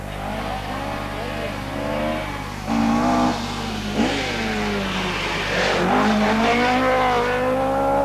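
A Ford Escort RS 1800 rally car competing in the 1982 Ulster Rally revs hard and accelerates past, engine rising and falling with gear changes, with a voice narrating over the engine noise.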